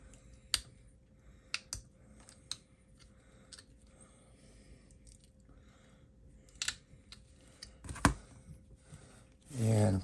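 Scissors trimming a Batgirl costume piece, with a scattering of sharp, close snips and clicks spread irregularly over a quiet background, ending in a louder rustle.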